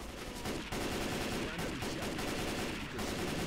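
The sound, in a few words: gunfire in Left 4 Dead 2 video game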